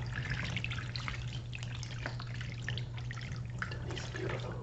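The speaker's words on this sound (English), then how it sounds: "To these beautiful, tingly little water beads." Small gel water beads (Orbeez) being handled close up in an ASMR setting, giving a continuous wet, squishy patter of tiny clicks and drips with a steady low hum beneath.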